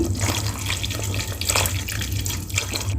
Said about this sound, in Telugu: ఇప్పుడు ఖర్జూరం పేస్ట్లో కరిగించిన బెల్లం వాటర్ వేసుకోవాలి